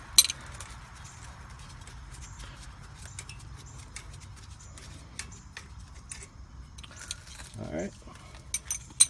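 Metallic clinks and ratcheting clicks from an open end wrench breaking loose a brake caliper bolt on a Toyota Sienna, scattered close taps over a low steady background, with a brief squeak near the end.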